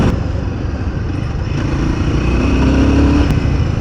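A Royal Enfield Guerrilla 450 motorcycle riding through traffic, its steady engine drone close and continuous, rising slightly toward the end with road and wind noise mixed in.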